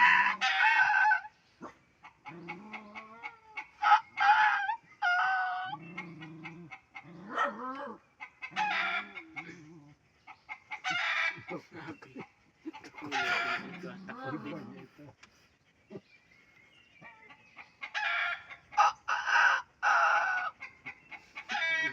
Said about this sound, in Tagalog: Naputak siya.